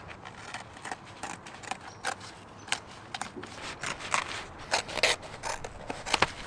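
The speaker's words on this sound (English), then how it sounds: "We're just gonna go ahead and cut all this plastic pieces, nylon, whatever it is." Scissors snip through plastic and nylon tent fabric in a quiet winter camp, with a rapid series of sharp, crisp cuts and rustling scrapes that come close and fairly loud, and no one talking.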